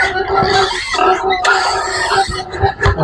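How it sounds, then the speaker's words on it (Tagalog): Backyard pigs being fed starter feed, their grunts and squeals coming close and busy in a steady jumble, with small clatters of feeding mixed in. "Papakain na tayo sa ating baboy"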